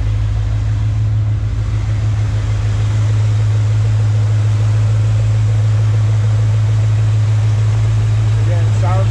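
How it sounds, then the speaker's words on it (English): A restored 1972 Chevrolet C10 short bed pickup's engine idles with a steady, low hum, a constant drone, smooth and even throughout, without knocking or ticking, with no speech. "Let you listen to the engine."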